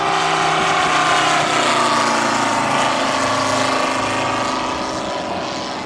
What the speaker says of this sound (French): C'est un moteur à 5 cylindres en étoile.